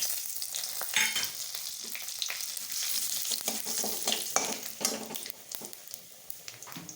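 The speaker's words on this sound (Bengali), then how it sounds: "ফোড়নে দেবো দুটো তেজপাতা আর দুটো শুকনো লঙ্কা আর গোটা জিরে।" Bay leaves, dried red chillies and whole cumin tempered in hot oil, crackling and spitting in a busy close sizzle with scattered pops and the occasional scrape of a utensil, continuous throughout without any talk.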